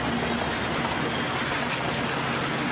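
A smoky train in Rio running on rails gives a steady, loud rumble with continuous broadband rail noise, no pauses or distinct clacks, and no talking.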